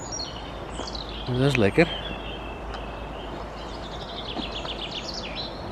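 Birds chirp and trill in the early morning at a small campsite near Arnhem, with thin repeated calls at a moderate distance. Someone speaks briefly over them and a louder, brief noise intrudes near the middle.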